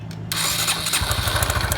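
A 2013 Honda Biz 125 motorcycle with its fairings removed and an oil leak cranks and catches, settling into a loud, close, rapidly pulsing idle with no talk.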